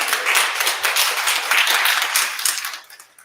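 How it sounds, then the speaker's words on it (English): A summit audience gives a round of applause, brisk, dense clapping at even strength that tapers off near the end, without any speech. "everyone give your self a round of applause because you are here"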